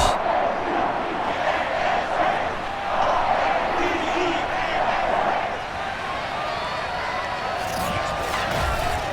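A simulated stadium crowd at a Baltimore Ravens versus Pittsburgh Steelers game in Madden NFL 22 roars as the teams take the field, a dense, steady mass of cheering that fills the space throughout.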